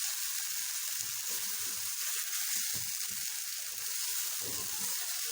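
Chicken fries in a pan with a constant, even, close-up hiss of sizzling oil that runs unbroken and without any voices.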